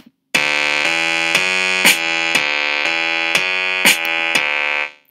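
Synth instrument in an online Song Maker tool playing a simple melody: a bright, buzzy sustained tone with regular note changes and a few sharper accented hits, loud and alone for about five seconds.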